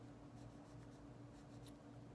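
Colored pencil scratching across paper during adult coloring, a faint, soft continuous scribbling with a low background hum and a few light strokes standing out.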